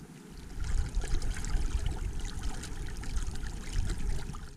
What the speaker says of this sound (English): The gurgling of the water running round the hull was now becoming music to my ears.